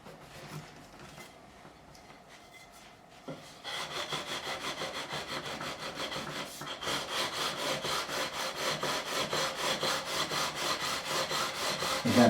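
Fret levelling on a made-in-Korea Squier Stratocaster with 240-grit sandpaper: steady rhythmic rasping strokes, quiet at first, then louder and faster back-and-forth scrubbing close up, with no talking.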